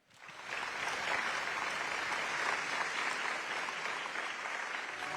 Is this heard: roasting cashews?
no